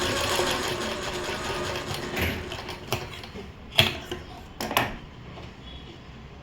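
A sewing machine stitching folded fabric, giving a low mechanical whir broken by a few sharp clicks and clatters near the end, alone and close.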